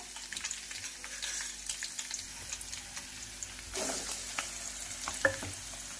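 Finely chopped onion fries in a pan for a Vidarbha-style tur ghugrya dish, giving a soft, steady sizzle broken by frequent scraping strokes of a spoon and a brief louder clatter.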